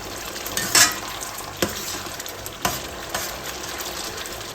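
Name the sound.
butter melting and sizzling in pan on medium heat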